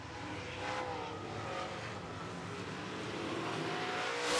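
Late model stock cars racing around an oval track, engines droning and roaring continuously at close to mid distance, with a steady loud rumble that swells slightly as cars pass.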